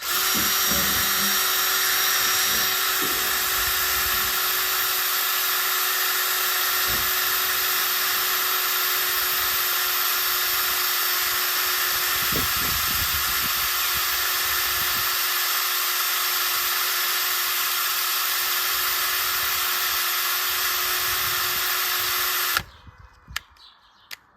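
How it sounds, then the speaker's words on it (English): A power drill set to hammer action runs continuously at high speed while drilling holes, loud and close, with a steady whine for over twenty seconds before abruptly stopping. "I think I started drilling these holes. So I'm going to continue on."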